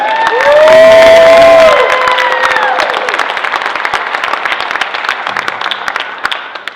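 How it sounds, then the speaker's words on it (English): Convention panel audience erupts in loud cheering and whoops, then settles into dense sustained clapping that gradually thins, filling the room from start to finish. "So a big round of applause for Pancho for really bringing it."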